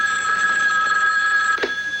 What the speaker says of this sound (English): So the phone rings after this meeting